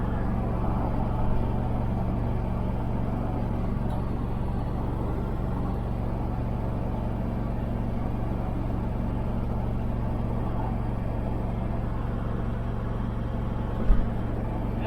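A motorcycle engine holds a steady RPM while riding, heard from a helmet camera as a continuous, even low drone with wind roar that barely varies, plus one brief knock near the end.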